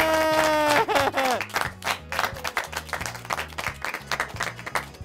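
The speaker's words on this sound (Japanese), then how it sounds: "拍手が鳴り止まね" An audience at a close-up magic show applauds loudly, dense clapping that swells and continues over some music, close and sustained throughout.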